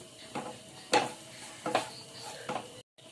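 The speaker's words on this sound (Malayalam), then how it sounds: "ഇനി നമുക്ക് ഇതുപോലെ ഒന്ന് വറുത്തെടുക്കാം." Grated coconut fries in a little coconut oil in a pan, with a soft steady sizzle under about four distinct scraping stir strokes of a spoon, spaced roughly a second apart, and no talk.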